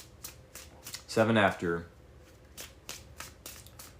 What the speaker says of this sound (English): Let's say 7 after, we do 3 more shuffles.